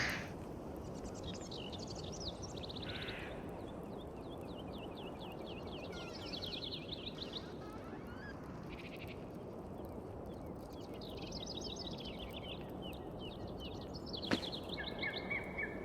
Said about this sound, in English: There's birds over there.